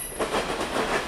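A freight train led by a BNSF locomotive, with mid-train DPUs, rolls steadily past with a continuous rumble and a faint rhythmic clatter of wheels on rail.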